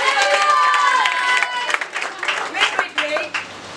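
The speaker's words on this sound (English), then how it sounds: "Give a huge round of applause." Students in a classroom clap and cheer for a classmate, the applause rising loudly at first and then thinning into scattered claps under a murmur of voices and chatter.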